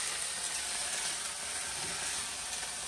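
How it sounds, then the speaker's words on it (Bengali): Parshe fish, first boiled, frying in oil in a pan, a soft continuous sizzle with steady crackle at low level and no voices. "সেদ্ধ করে শুধু ভাজলে একটু রসটা টানে বেশি, শুকনো হয়, এগুলো ভাজে নিচ্ছি"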